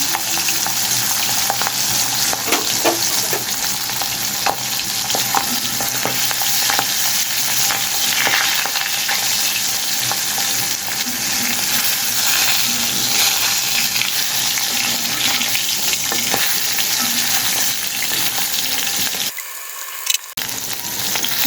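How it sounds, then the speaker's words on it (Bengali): Poya fish fries in hot oil in a wok, a loud, continuous sizzle and crackle running throughout with occasional stirring clatter, briefly cut near the end. "এখন আমি মাছটাকে ভেজে নিব।"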